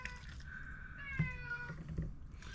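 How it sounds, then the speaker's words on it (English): A cat lets out a long, wavering meow nearby, with a couple of soft knocks and a faint low hum underneath. "the cat's gonna make lots of noise"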